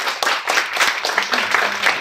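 Audience at a Night of Impact technology evening in Sweden claps for a speaker, a fairly close, steady patter of many hands over two seconds with some voices mixed in.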